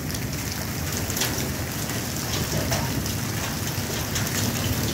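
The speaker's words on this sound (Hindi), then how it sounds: "ये आप सामने देख सकते हैं, ये कितने ओले लॉन में इकट्ठे हो गए।" Hailstones fall hard on a lawn in a hailstorm, a dense steady hiss of pelting impacts mixed with rain, loud and continuous, with no voices.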